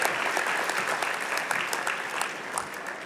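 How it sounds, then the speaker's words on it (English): Audience applause at a university fall convocation ceremony for graduating Bachelor of Interior Design students: steady, dense clapping from a large crowd, sustained evenly throughout. "A round of applause for the graduates from the Bachelor of Interior Design Program."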